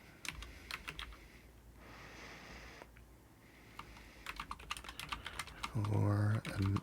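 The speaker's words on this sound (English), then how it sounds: "So we're gonna type," Keys clatter in quick irregular bursts on a computer keyboard while a product requirements document for a job interview app is typed up, close and fairly quiet, with a brief louder tonal sound near the end.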